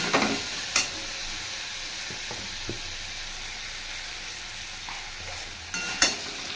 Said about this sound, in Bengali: এটাকে ভালো করে একটু কষিয়ে নেবো কষিয়ে